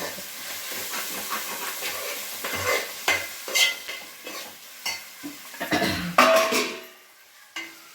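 A spoon scrapes and stirs okra and prawn curry masala in a hot pan, giving repeated clattering strokes over a bubbling sizzle that fades out near the end.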